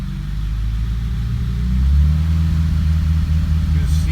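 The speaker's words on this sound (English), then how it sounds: "So engine is running" A 1953 Pontiac Chieftain engine runs steadily close by, a deep low rumble that swells slightly midway and holds an even idle throughout, with no talking.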